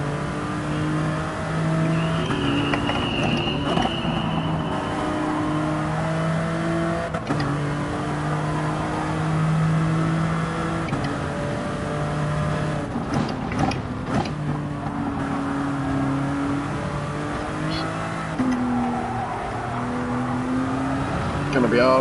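A race car engine driven hard, pushed to the point of understeer, drones loudly and steadily while its pitch repeatedly rises and falls with throttle and gear changes. Another engine briefly passes, and a voice talks over it.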